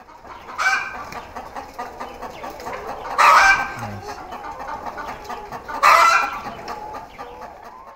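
Chickens at a cage-free poultry farm cluck and murmur continuously, with several louder squawking bursts standing out over the flock's steady chatter in a busy indoor setting.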